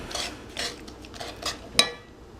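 Utensil scraping and stirring cookie batter in a bowl for an iron skillet cookie: several soft, irregular scrapes and swishes up close, with one sharper clink of metal on the bowl near the end.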